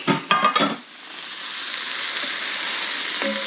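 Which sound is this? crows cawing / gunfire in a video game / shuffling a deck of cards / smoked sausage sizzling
smoked sausage sizzling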